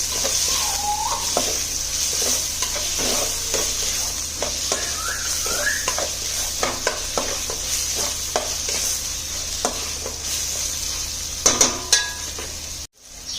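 Onion and capsicum sizzle steadily in a hot pan while a spoon scrapes and stirs in repeated strokes, with a few louder clanks near the end.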